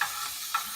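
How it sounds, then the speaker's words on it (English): Jalapeno bacon sizzling in a pan gives a steady, close hiss of frying fat, with faint crackles rising briefly through it and no voices. "look at that bacon. Look at it sizzling, all that sexy sizzling goodness"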